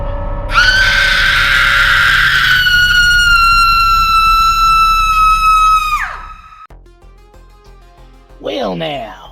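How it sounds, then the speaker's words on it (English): A woman in an audio drama screams, a long, loud, sustained shriek lasting several seconds that cuts off abruptly, followed by a quieter pause and then a short, harsh vocal burst. "From the ground, Chloe started to scream."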